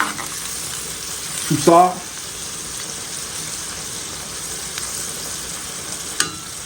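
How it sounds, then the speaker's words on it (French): Boneless chicken thighs cook in a pan with a little water, a steady loud sizzle and bubbling throughout, with a brief burst of speech early on and a sharp utensil tap toward the end. "Un petit peu d'eau pour faire cuire cette viande."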